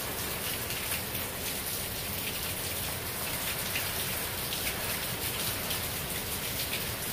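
Heavy, steady rain pours down during Hurricane Irma on a residential street, a dense continuous hiss of drops striking surfaces close by, with no voices.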